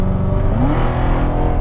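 A Corvette C7 Z06 in sport mode revs its exhaust in a short, close, throaty burst, its engine tone rising briefly.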